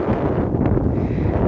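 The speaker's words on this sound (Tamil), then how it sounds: "அவ்வளோ தூரத்துக்கு காற்று எப்படி அடிக்குது காற்று" Strong wind gusting across an exposed mountainside on the Meesapuli Mala trek, a loud, continuous low roar buffeting the microphone throughout with no speech.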